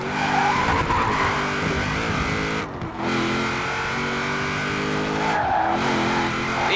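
A car drifting in Forza Horizon 4, engine droning loud and close while tires squeal in long skids, with the revs dropping and climbing through the slide.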